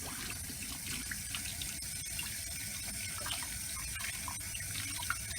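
Running tap water splashes steadily over a partial denture being rinsed in a sink, a close, even rushing flow with small irregular spatters.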